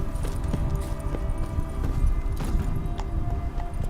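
Roach, a horse in The Witcher video game, clip-clops along with steady, close hoofbeats in an even rhythm over a soft ambient bed.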